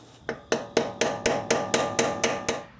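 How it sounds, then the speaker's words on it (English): A hammer strikes repeatedly to stake a car's axle nut in place, roughly ten sharp, evenly spaced metallic blows about a quarter second apart, loud and close with nothing else heard. "just make your stake into the axle nut"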